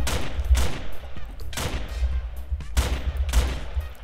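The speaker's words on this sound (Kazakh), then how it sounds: "Достарды атып атыр мен." Gunfire in a Minecraft video game, with repeated loud shot bursts at roughly one-second intervals over a dense, rumbling background, with no clear speech.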